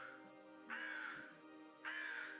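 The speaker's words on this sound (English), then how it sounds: "it is a black crow in a dark area" A black crow caws twice in a dark area, each harsh call drawn out and fairly clear against a quiet background.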